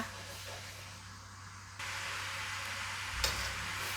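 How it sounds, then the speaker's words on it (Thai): Boxed coconut milk simmers in a pot with a soft, steady hiss and faint bubbling, quiet and close, growing slightly louder partway through with one small knock. "วันนี้ป้าใช้เป็นกะทิกล่องนะคะ เคี่ยวไปสักครู่นะคะ"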